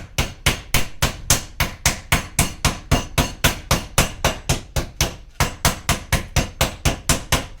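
Chicken breasts are pounded flat for chicken marsala: roughly thirty loud, close thuds land in an even, steady rhythm, with no talking.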